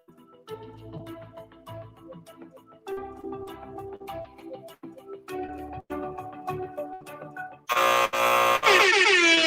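A game-show buzzer sounds loudly at the end, a harsh sustained blare in a few bursts after a stretch of music-like tones, with no speech over it.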